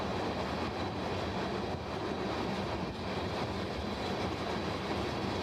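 A train rolls past at trackside with a steady, loud, broadband rumble and faint clickety-clack of wheels that holds evenly throughout, with no voices.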